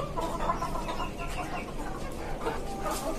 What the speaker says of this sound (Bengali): আর এখানে আমার একটা সাদা মোরগ আছে, মাশাআল্লাহ